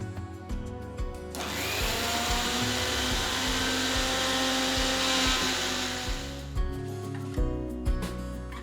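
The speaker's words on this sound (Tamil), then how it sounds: "வறுத்து ஆற வச்ச எள்ளை ஒரு மிக்சர் ஜாருக்கு மாத்தி நல்லா பொடிச்சு எடுத்துக்கலாம்." A kitchen mixer grinder jar pulverises roasted, cooled sesame seeds in one steady, loud whirring run lasting several seconds, with clattering and knocking before and after the main grind.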